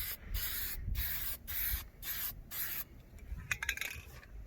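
Spray paint hissing onto a Duramax truck in repeated bursts of about half a second, close and bright, followed by lighter scraping and rubbing noises.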